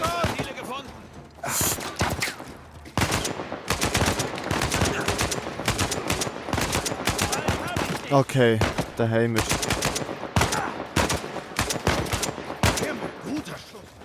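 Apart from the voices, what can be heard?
gunfire in a video game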